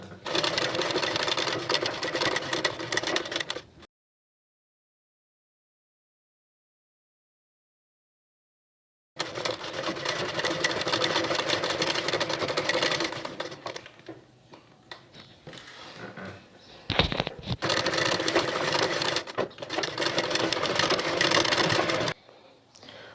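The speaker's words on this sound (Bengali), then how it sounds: "এই দাগ পর্যন্ত আমি সেলাই করব।" A sewing machine runs in steady bursts while stitching a sweetheart neckline, its rapid mechanical whir stopping for a long silent pause, then resuming with brief halts as the fabric is turned.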